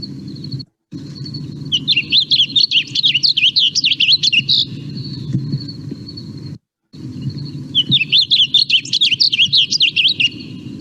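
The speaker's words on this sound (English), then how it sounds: "listen to how much harsher and like sharp and short the blue grosbeak song" Blue grosbeak singing in grassland, two bursts of harsh, sharp, short warbled phrases over a steady insect drone and low background rumble, fairly close and clear.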